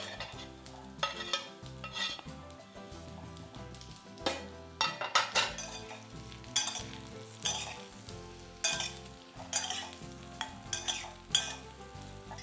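Spiced potato slices with curry leaves being stirred in a pan, a Marathi masala batata kaap dish: a spoon scrapes and clinks against the metal in quick repeated strokes over a low sizzle, close and fairly loud, with no talking.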